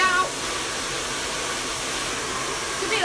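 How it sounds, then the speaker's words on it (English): A handheld hair dryer blows steadily at close range, a constant loud whooshing airflow with a slight motor whine throughout, no voices over it. "Just lift that dryer."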